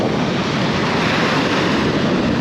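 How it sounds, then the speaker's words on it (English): Ocean waves slap and wash along the shore at the Outer Banks, a loud, continuous roar of surf mixed with wind buffeting the microphone. "Even just the sound of the waves slapping."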